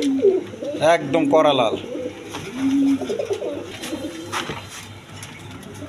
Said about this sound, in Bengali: এখানে এক পেয়ার লোটন কবুতর আছে, ইন্ডিয়ান লোটন কবুতর।